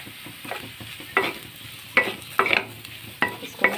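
A spatula stirs a mashed potato mixture with chaat masala in a hot pan, making a light sizzle under a series of sharp scraping strokes, roughly five distinct stirs close to the microphone.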